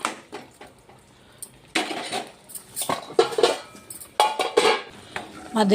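Metal clatter of a lid set onto a cooking pan of egg and green chilli masala gravy, a few sharp clinks and scrapes spread over several seconds, close by, with no talk.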